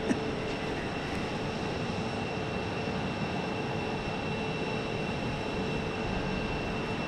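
An airplane at Phoenix airport heads toward the south runway, heard as a steady, continuous broadband engine roar that holds at an even level throughout, with no voices.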